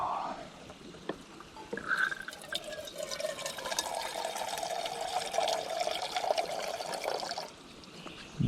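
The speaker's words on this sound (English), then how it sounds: "Do about 7 ounces of water in there." Water poured from a container into a camp cooking pot at a backcountry campsite on a hiking trail, a steady close trickle lasting several seconds with a brief splash at the start, no talking over it.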